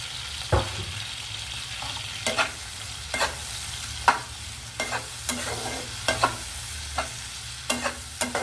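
Tomato cooking with turmeric in a pan, a spoon stirring it at intervals. The scrapes come as irregular sharp clacks over a steady low sizzle, fairly close, and nobody speaks.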